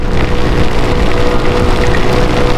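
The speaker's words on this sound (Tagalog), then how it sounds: "lumalakas na lalo yung ulan, ano?" Steady, dense hiss of heavy rain pouring down without pause, with a low rumbling undertone, loud and close throughout.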